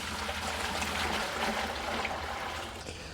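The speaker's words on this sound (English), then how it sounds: "We're going to put a little bit of water into the bucket" Water pours steadily into a bucket in a continuous splashing trickle, close and fairly loud, easing off slightly near the end, with no one talking.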